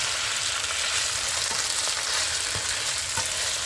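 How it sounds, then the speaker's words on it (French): Seasoned ground meat, spiced with white and black pepper and nutmeg, fries in a pan beside pasta, giving a dense continuous sizzle close up, with faint scrapes and taps of stirring. "On va remuer."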